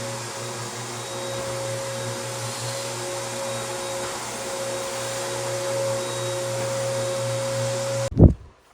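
A floor polishing machine works a 1960s terrazzo floor with a steady, loud motor drone and hum, running continuously and close until it shuts off abruptly near the end with a thump.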